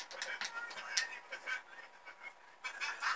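A chicken squawking and clucking in short, sharp bursts, several rapid calls in a row, fairly close and unaccompanied by speech.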